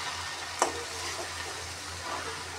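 Veg chowmein is stir-fried and tossed in a pan over a low flame, giving a soft, continuous sizzle with one sharp scrape or clatter near the start and gentle mixing noises after it.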